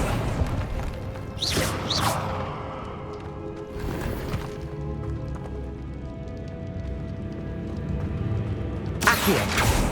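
Accio summoning spell being cast in Hogwarts Legacy, a string of magical whooshes and swishes with bright bursts near the start, middle and end over a steady game backdrop.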